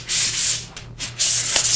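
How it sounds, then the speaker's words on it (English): Light gray 400 grit stearated sandpaper scuff-sands a wood finish in quick strokes under light hand pressure, giving close, loud rasping rubs in a back-and-forth rhythm, about three strokes alone. "To smooth it off, scuff sand lightly with 400 grit stearated paper."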